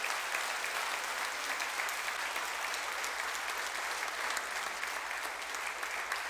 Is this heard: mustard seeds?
no